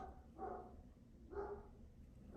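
A dog barks faintly in the distance, two or three muffled woofs spaced about a second apart over quiet background hiss.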